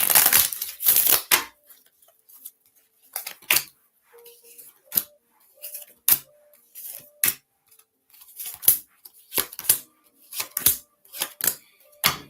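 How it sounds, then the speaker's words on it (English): Tarot cards are shuffled close by in short, crisp riffling bursts, repeated irregularly with brief quiet gaps between them. "One more shuffle."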